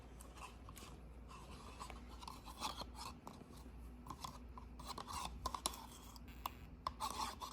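Cocoa powder being stirred into a homemade fake blood mixture, a quiet scraping and rubbing of a utensil against a container in irregular strokes, close and soft with no talk.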